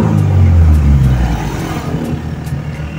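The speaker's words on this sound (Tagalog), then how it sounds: "apakan natin ng isa o dalawang beses yung gas pedal" A Toyota Corolla's carbureted 4AF engine revs up briefly as the gas pedal is pressed, then settles back to a lower, uneven idle, heard close and fairly loud.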